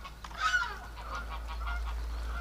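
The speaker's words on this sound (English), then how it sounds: "And it just freaked out my geese." Geese honk in a winter setting, a few nasal calls clustered near the start followed by fainter scattered honks over a low steady hum, with no speech.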